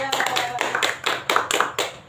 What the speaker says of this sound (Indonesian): Tepuk tangan untuk Eda.